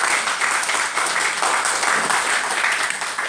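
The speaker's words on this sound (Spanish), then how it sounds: "el aplauso va también para ustedes" An audience at a live writers' talk show claps together in a steady, moderately loud burst of applause that holds evenly throughout with no talk on top.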